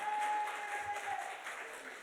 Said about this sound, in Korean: 이런 데는 박수 한번 쳐요.